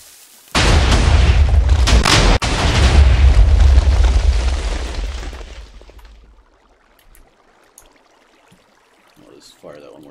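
A Minecraft sand cannon fires with a sudden heavy blast that rolls into a long, loud rumbling string of explosions, fading out over several seconds to near silence with faint sounds afterward.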